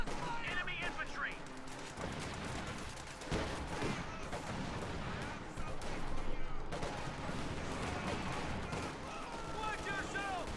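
MG42 machine gun fire in a Company of Heroes 2 battle, a dense rattle of rapid bursts mixed with other gunfire and artillery, steady and loud across the whole stretch.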